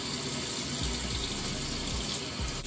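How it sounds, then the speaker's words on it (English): Warm water runs steadily from a shower tap, a constant broad rushing hiss with no pauses and no voices. "I'm gonna start by using warm water."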